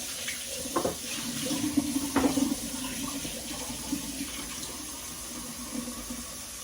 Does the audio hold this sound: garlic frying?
no